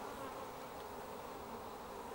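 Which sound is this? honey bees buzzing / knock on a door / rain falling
honey bees buzzing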